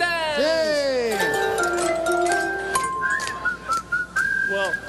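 Several people whistle a Disney medley tune together, clear sustained melodic lines rising and falling, loud and close with some chatter at the start.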